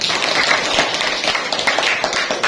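Schoolchildren in a fifth-grade class applaud a classmate after a weekly reading competition, a busy patter of many hands clapping together, fairly loud and sustained with no talking.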